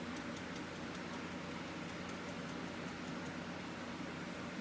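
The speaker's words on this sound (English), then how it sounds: "And then I'll go back with the dryer." A hair dryer blows steadily over wet paint on a canvas, a continuous broadband whoosh with an even, unbroken level throughout.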